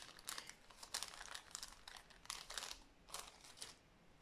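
Gift wrapping and ribbon crinkling as a present is opened, a series of quiet, close rustling and crumpling bursts in an irregular rhythm, no talk.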